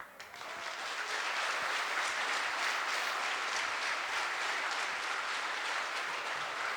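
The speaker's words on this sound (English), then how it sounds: "there is a tremendous rouse of applause" A hall audience at a Ukraine emergency fundraiser in Pine Plains, New York breaks into applause, rising quickly from a faint start into a steady, dense roar of clapping that holds throughout.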